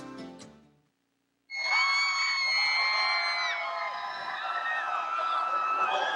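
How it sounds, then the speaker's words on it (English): Enthusiastic crowd at Autzen Stadium for a 1989 Oregon high school state football championship, cheering and whooping loudly and steadily after a brief pause, with shouts rising from the stands. "There you see part of the enthusiastic crowd"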